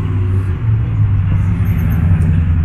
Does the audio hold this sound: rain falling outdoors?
no